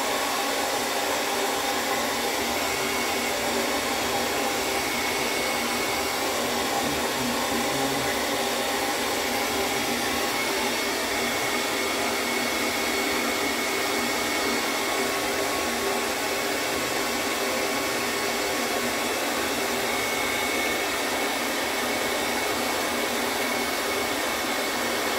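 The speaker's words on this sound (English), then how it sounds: "Now, I know you guys could see when I was blow drying that right in this area" Hair dryer blowing on a beard, a loud continuous airy roar with a steady motor hum that runs unbroken throughout, with no talking.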